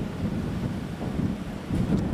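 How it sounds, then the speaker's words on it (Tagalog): Strong typhoon wind and rain from Typhoon Emong lashing coastal Zambales, a continuous rough blustery roar buffeting the microphone, fairly loud and without pause. "buong magdamag kaming nakaranas ng malakas na ulan na sinasabayan pa ng malakas na hangin"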